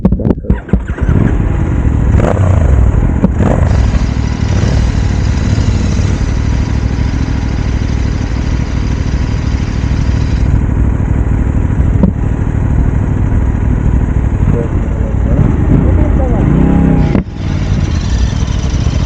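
A Royal Enfield GT650 and an Aprilia RS457 drag race, their motorcycle engines roaring loud and close throughout, revving hard with shifts and a brief dip near the end.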